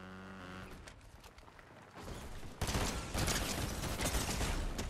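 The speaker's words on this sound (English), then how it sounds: "Oh, I hear shooting." Gunfire in Fortnite, distant shots at first, then a louder burst of rapid, overlapping fire that continues to the end.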